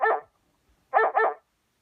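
A dog barks close by: one sharp bark, a short pause, then two quick barks in a row, with nothing else underneath.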